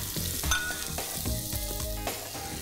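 Mustard seeds, cumin and chopped onion fry in hot oil, giving a steady, close crackling sizzle with scattered pops and stirring scrapes, heard alone without talk.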